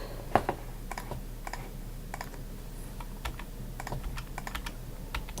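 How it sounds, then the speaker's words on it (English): Computer keyboard keys are pressed during illustration software work: scattered, light plastic clicks in short irregular clusters over a steady low room hum. "I'm pressing Shift to add different sections."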